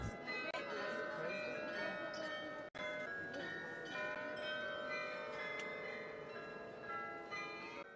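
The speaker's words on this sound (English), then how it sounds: "the Glockenspiel chimes in the tower of the city hall" The Glockenspiel in the tower of Munich's New Town Hall on Marienplatz rings a steady run of layered, ringing bell tones, somewhat distant, over an open-air crowd murmur.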